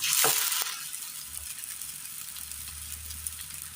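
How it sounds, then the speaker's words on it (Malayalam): Flattened dough frying in a little oil in a pan for a Kerala recipe gives a steady, close sizzle with light crackling throughout, with no talk. "പാനിൽ ഒരല്പം എണ്ണ ഒഴിച്ച് കൊടുത്ത് പരത്തിയെടുത്ത മാവ് വെച്ച് കൊടുക്കാം."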